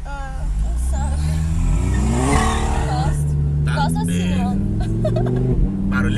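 Fiat Uno car engine running loud and steady throughout, with a rising rev partway through, while people talk over it inside the car.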